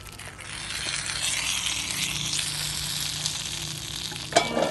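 Cumin seeds sizzle steadily in hot ghee left from frying pakoras, a close, even crackling hiss of a tempering for kadhi, with a brief clink of a utensil near the end.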